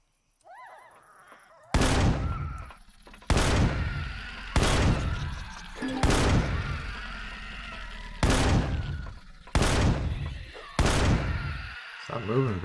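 Gunfire in Empyrion Galactic Survival, Reforged Eden, against a Z-Rex: seven loud, sharp shots spaced about a second or so apart, each with a lingering ring, and a short soft cue just before the first.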